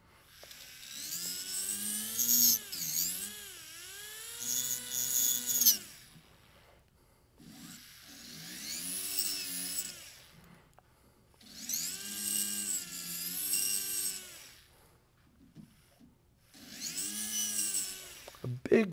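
Jeweler's rotary burr cutting a seat for a stone setting, whining in three bursts of several seconds each, separated by quiet pauses.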